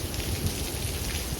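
Steady heavy rain pours down during a thunderstorm, a dense continuous hiss of drops with no voices and no thunder clap in this short stretch.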